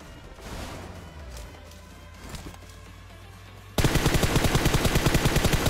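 Heavy automatic gunfire in the video game PUBG, a loud rapid burst of evenly spaced shots that erupts abruptly after a few seconds of quieter game ambience.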